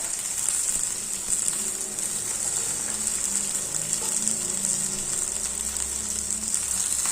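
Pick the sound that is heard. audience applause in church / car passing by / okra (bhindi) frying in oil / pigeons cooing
okra (bhindi) frying in oil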